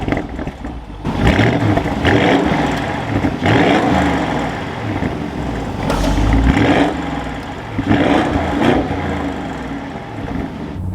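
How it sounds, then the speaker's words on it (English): A 2023 Audi SQ7 Prestige engine fires up and revs, its exhaust swelling in several loud bursts with a rumbling idle between them, heard close with no talking. "let's fire this up so we can hear that exhaust"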